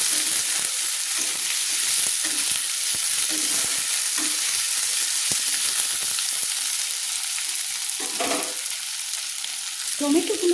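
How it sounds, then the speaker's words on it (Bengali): Tomatoes fry in a pan with a constant close, bright sizzle while a spoon stirs them in soft repeated scrapes and taps. "টমেটোগুলো গলতে শুরু করেছে, একটু আমি নেড়ে নিলাম।"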